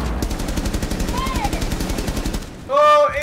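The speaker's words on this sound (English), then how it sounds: "This is an LMG." Bursts of rapid light machine gun fire crackle in an online shooter match, loud and close with steady repeated shots, while a player talks over the gunfire.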